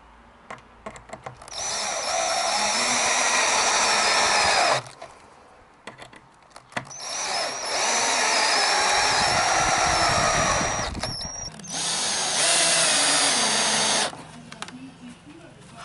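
A power drill driving screws into terrace lounge decking boards, three long loud whirring runs of several seconds each, separated by short pauses with handling knocks, close by and with no talking.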